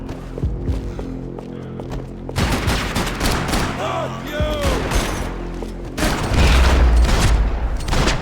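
Gunfire in the Max Payne 3 video game: dense, loud bursts of rapid shots and booming impacts crowd the scene, with an especially heavy volley near the end.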